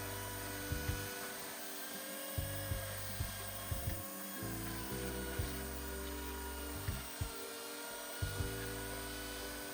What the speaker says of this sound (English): And when you sand them just right, not too much, you can really see some incredible grain patterns.